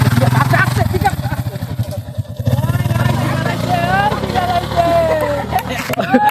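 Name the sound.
motorcycle being ridden slowly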